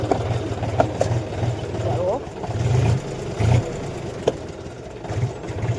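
A tractor engine runs steadily nearby as it pulls away, a low rumbling drone with slight swells in revs, while a person talks over it.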